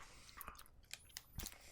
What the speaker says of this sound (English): But it has that nutty crunch.